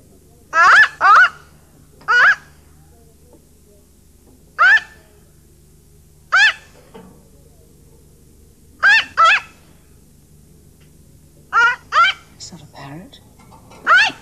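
A mynah bird calls in short, bright, parrot-like bursts, often paired, repeating about eight times over fourteen seconds against a quiet indoor hum, close and loud.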